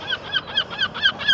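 A duck by a city lake in Reykjavik calls six times in quick, even succession, each call a short nasal honk that sounds loud and close, with no voices over it.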